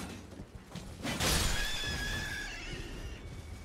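A horse whinnies in the video game Elden Ring: Shadow of the Erdtree, a clear rising neigh with a brief bright crash just before it, heard alone over soft in-game background sound.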